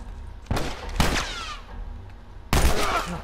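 Three separate sharp gunshots ring out in The Last of Us Remastered, spaced unevenly with loud echoing tails between them, standing mostly alone over a quiet backdrop.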